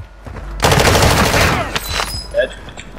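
Rapid gunfire from a Warzone 2 match bursts out loud and dense for about a second, then trails off into a few scattered shots and small game effects.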